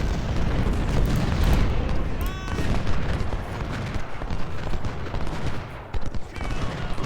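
Sharps .52 rifle volleys roar in an Ultimate General: Civil War battle, a dense continuous wash of massed gunfire and booms layered throughout, loud and sustained without a break.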